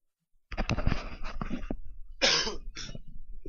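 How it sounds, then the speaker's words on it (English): A single harsh cough bursts out close by, followed by throat clearing and a couple of rough hacking coughs. "I had a cough there"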